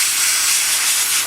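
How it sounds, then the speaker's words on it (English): An airbrush sprays paint onto the box part of a 1/32 scale Tamiya Mitsubishi A6M2b Zero fighter model, giving a steady, close, loud hiss of air and paint that holds evenly for about a second before cutting off. "And then what we want to do is just nicely spray this box"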